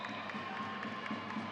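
Applause from a modest crowd at a women's college basketball game, a faint steady patter of clapping and cheering in a gym, with a commentator talking over it.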